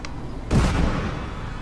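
A single loud gunshot in Papers, Please, a sudden heavy report at a border checkpoint that rings out and decays into a low rumble.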